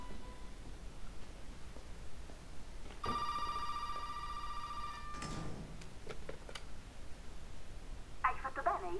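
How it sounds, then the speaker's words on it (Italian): A telephone rings in Resident Evil 7, a steady electronic ring lasting about two seconds over quiet ambience, followed by clicks and handling noises and a brief faint voice-like burst near the end. "Oddio, suona il telefono."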